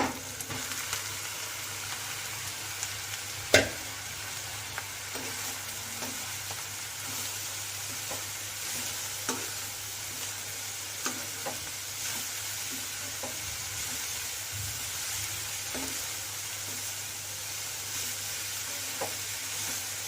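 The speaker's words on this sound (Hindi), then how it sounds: "तो हल्का सा फ्राई करना है।" Vegetable momo filling sizzles steadily in a pan while being stirred, with a constant bright frying hiss and occasional soft clicks of the spoon against the metal, close and alone with no talking.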